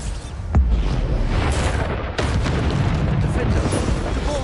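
Bombarda spell blasts in Hogwarts Legacy: a dense, loud wash of booming explosions and crackling impacts, with two sharp bursts standing out amid continuous combat noise.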